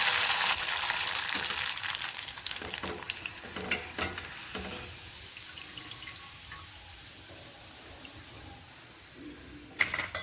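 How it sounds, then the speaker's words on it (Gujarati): Sabudana and potato papad sizzle and hiss loudly as they fry in hot oil, with the crackle easing over the frying and a few stirring clinks; nobody speaks. "આટલા મેં પાપડ તળ્યા"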